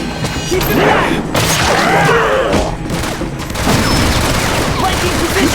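A squad of soldiers opens fire in the X-Men Origins: Wolverine video game, a dense, continuous fusillade of loud gunshots and crashing impacts with shouted voices mixed into the din throughout.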